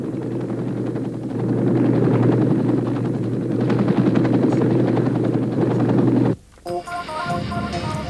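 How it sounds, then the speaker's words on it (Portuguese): Rescue helicopters fly in a Vietnam-era combat scene, their rotors thudding in a loud, steady drone that swells slightly, then cuts off abruptly near the end as a different tonal sound takes over. "os helicópteros de resgate se aproximavam do ponto de salvamento"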